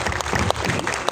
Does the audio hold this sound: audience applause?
yes